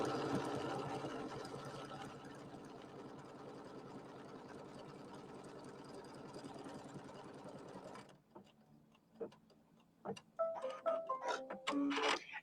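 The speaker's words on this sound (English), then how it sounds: "we're going to stitch out the stitching line here" An embroidery machine stitches out a line on a pieced quilt block with a rapid, even mechanical patter for about eight seconds, then stops, leaving scattered clicks and a faint voice.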